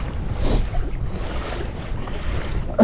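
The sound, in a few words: wind blowing on lake from pedal-drive kayak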